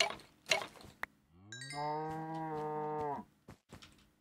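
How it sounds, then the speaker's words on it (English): A cow in the Minecraft video game moos once in a long, drawn-out call lasting over a second, near and clear, with small clicks and scattered game sounds before and after. "I can hear another cow."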